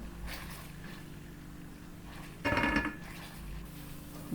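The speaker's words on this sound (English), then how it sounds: "So I'm going to fry this until it separates from the oil" Tomato paste sizzles in hot oil for Ghana chicken stew, a steady soft frying hiss with a brief louder burst of clatter or stirring partway through.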